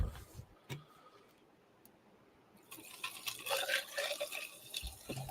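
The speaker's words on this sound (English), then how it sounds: "I'm going to pour a bunch of this water in front of this dog" Water pours from an insulated flask onto the ground in front of a dog, a gurgling, splashing stream that starts partway through after a few faint clicks and runs steadily to the end.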